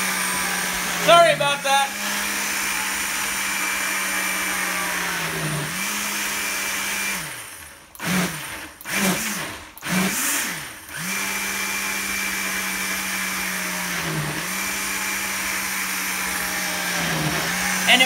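A blender whirs steadily through a mix of paper pulp and water for homemade recycled paper, a loud, continuous motor drone that dips briefly in pitch. Midway it cuts out and restarts in short bursts, and a voice speaks briefly over it.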